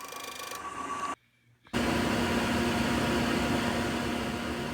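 A Shopsmith disc sander sands wood with a steady, loud broadband whir and grinding hiss, briefly dropping away for about half a second before returning at full strength and holding steady to the end.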